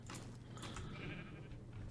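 Sheep bleat in short wavering cries in Minecraft over a busy, noisy background, fairly close, with no speech.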